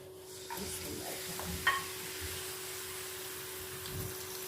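One kilogram of mutton frying in half a cup of oil in a karahi, a faint, steady low sizzle with soft stirring scrapes and a brief clink, heard alone.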